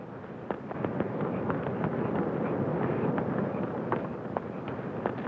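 A house burns in a blazing fire, a steady roar with sharp crackles and snaps scattered throughout, fairly close and without voices.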